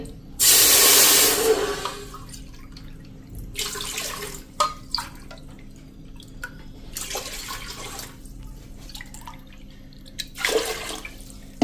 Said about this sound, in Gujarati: આમાં 4 કપ પાણી મૂકશું